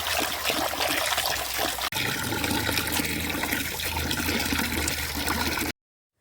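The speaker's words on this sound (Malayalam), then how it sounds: "മീൻ നന്നായി കഴുകി നമുക്ക് കട്ട് ചെയ്തിട്ടെടുക്കാം" Stingray fish being rinsed under running water, a steady loud splashing gush from a tap with a brief break midway, then cut off abruptly near the end.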